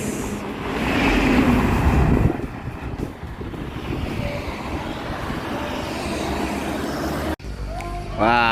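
Several Mior Prima Abadi (MPA) intercity buses running along a road together, a steady loud rush of engine and road noise with heavy wind buffeting the microphone, briefly cut near the end.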